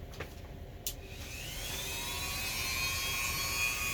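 Dremel rotary tool cutting into hard plastic of a headphone housing, a whining motor that rises in pitch and grows steadily louder after a couple of faint clicks, then holds a sustained high grinding whine.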